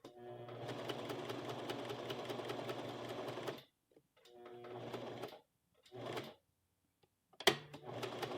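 A sewing machine stitches buttonholes on a blouse with a fast, steady mechanical whir, first one long run, then two shorter bursts, and finally a single sharp click.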